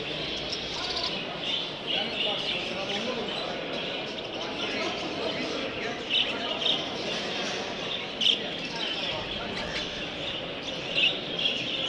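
Many small birds, including budgerigars, chirp and tweet continuously in a busy indoor bird market, with murmured voices and background bustle mixed in.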